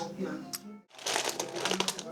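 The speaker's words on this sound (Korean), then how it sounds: "비닐을 가지고 놀고 있습니다. 안에 과자를 숨겨놨거든." A small child crinkles a plastic bag with snacks hidden inside, giving bursts of crisp rustling before and after a brief pause, close by, with faint voice-like sound mixed in.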